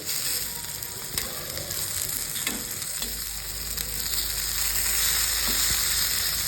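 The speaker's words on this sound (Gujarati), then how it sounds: "તેમાં ઓઇલ નાખીશું. ભીંડાની શીંગને તળીશું." Okra pods fry in hot oil in a pan with a steady, bright sizzle and crackle that rises slightly toward the end, with no voices over it.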